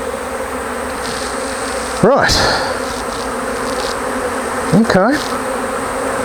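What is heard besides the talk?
honey bees buzzing from an opened hive box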